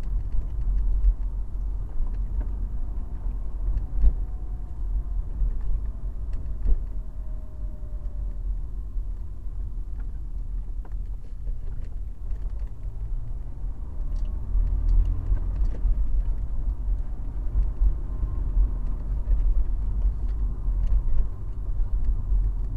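A car drives along a road near the seaside town of Sozopol, heading toward its southern Kavatsi quarter; low engine and tyre rumble hums steadily from inside the moving vehicle, with faint occasional bumps.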